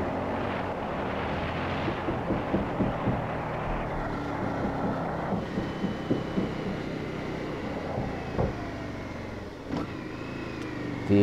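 An Indian FTR S motorcycle engine drones while riding twisty roads, a continuous rumble with wind noise that rises and falls as the throttle changes, steady and moderately loud throughout.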